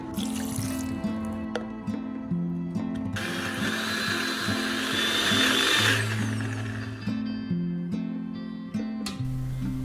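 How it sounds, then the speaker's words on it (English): A blender whirs in loud bursts, its motor pitch shifting as it grinds, with a brief harsher surge partway through. "Add this into a blender with half cup water and blend it to a smooth paste"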